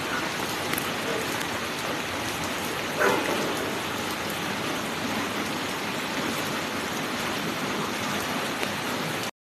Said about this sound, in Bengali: সেই পরশু থেকে খুব বৃষ্টি হচ্ছে। বাইরের ওয়েদারটা দেখাই।